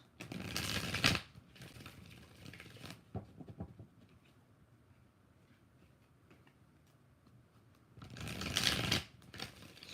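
Tarot cards being shuffled in bursts, a loud riffling flurry at the start, softer shuffling around three seconds, then quiet ticking before a final loud riffle near the end.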